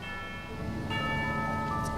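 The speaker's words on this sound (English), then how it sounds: "You hear the sound of a bell." A bell rings in the Genshin Impact video game, in the Fontaine sewers, with a soft sustained tone that brightens into a clearer chime partway through.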